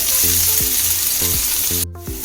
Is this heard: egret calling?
no